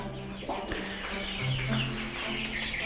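Bresse hens and their chicks cluck and chirp close by in a farmyard coop, a busy mix of low clucks and higher peeps running continuously throughout.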